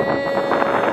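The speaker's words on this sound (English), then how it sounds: "It's so windy." Steady wind buffets the microphone with a constant roar, heard during a ride in a Lamborghini Huracan.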